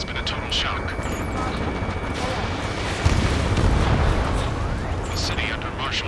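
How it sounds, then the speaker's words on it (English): Gunfire and jet engine roar echo through city streets under martial law in the combat flight game Ace Combat 7: Skies Unknown, a dense, continuous rumble with scattered sharp reports and a heavier boom partway through. "Gunfire and the roar of jets echoing through the streets."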